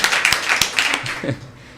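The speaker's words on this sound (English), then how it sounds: "So a small round of applause, perhaps, already is in place." A small round of applause for an academic award winner at a conference session, a handful of distinct claps close by, thinning out and fading toward the end.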